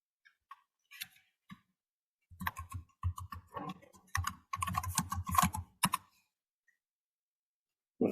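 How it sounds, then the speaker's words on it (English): Typing on a computer keyboard, quick irregular bursts of clicking keystrokes, close and quiet, with a few isolated taps before and after in an otherwise silent room. "If you want, you can type."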